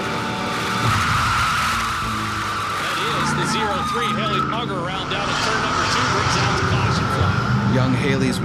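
A race car spins out with tires skidding and squealing, a wavering screech over a steady engine roar. Voices talk over it throughout.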